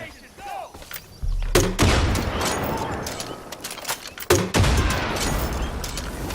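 Two heavy grenade launcher blasts in Far Cry 5 thump out about three seconds apart, each followed by a long rumbling, crackling tail, with quieter ambient game noise before the first.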